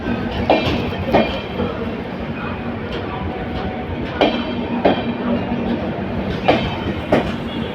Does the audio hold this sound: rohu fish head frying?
no